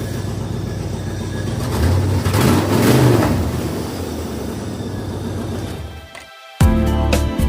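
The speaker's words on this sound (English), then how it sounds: "One little rev for the funsies." A C4 Corvette V8 with an open DIY exhaust rumbles loudly, swells into a single rev around the middle and settles back, before a brief dropout and an abrupt return of the engine noise.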